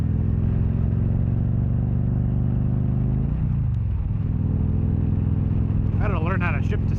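A 2013 Victory Cross Country Tour motorcycle rumbles loudly and continuously while riding, with engine pitch dropping and rising through a gear shift, wind roar constant and a voice briefly heard over it.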